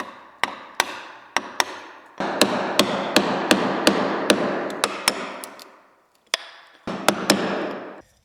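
A mallet drives a chisel into spongy, stained pallet wood, sharp close strikes in an uneven rhythm, sometimes single and sometimes in quick runs, each followed by a ringing decay, with no voices.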